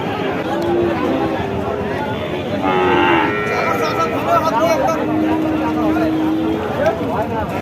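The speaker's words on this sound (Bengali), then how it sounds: "খামার উপযোগী সার বাছুর" Cattle, including Sahiwal bulls and calves, moo loudly several times amid a crowd of people talking nearby at a busy outdoor cattle market.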